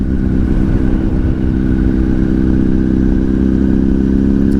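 A 2007 Honda CBR1000RR Fireblade rolls downhill in a high gear. The engine gives a steady, deep, loud pottering drone with a low rumble and light clatter, with no voices over it.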